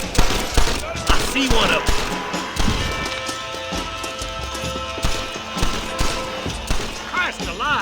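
Repeated gunshots in a Red Dead Redemption video game shootout, sharp cracks in irregular bursts under clear spoken dialogue.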